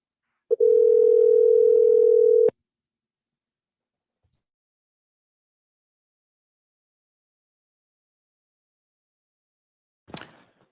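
A single steady telephone dial tone runs loud for about two seconds while a call goes out to a listener on a live talk show. Silence follows, then a brief burst of noise close to the end.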